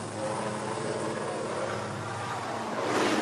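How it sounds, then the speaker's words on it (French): A helicopter carrying royal sovereigns near a port flies overhead, its steady loud rotor and engine drone filling the whole stretch and swelling slightly toward the end. "un hélicoptère emmène les souverains qui ont pris de retard sur l'horaire."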